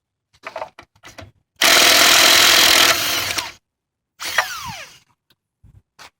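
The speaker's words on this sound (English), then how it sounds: "Should be a breeze for this impact wrench." Milwaukee M18 2663 impact wrench loosening lug nuts on a Dodge Ram: one loud, sustained burst of rattling hammering lasting about two seconds, followed by a shorter whirring spin-down burst, with quiet clicks and handling noises around them.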